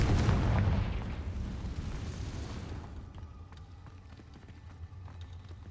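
A Confringo blasting spell from Hogwarts Legacy bursts loudly at the start, a heavy explosive boom that rumbles and fades away over a few seconds, leaving a quiet scene with faint ticking sounds.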